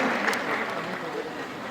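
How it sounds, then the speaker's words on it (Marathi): Brief burst of audience applause for volunteers at a world-record chanting event in Trimbakeshwar, a dense patter of many hands under a voice talking. "सेवेकरींसाठी जर एकदा जोरदार टाळ्या"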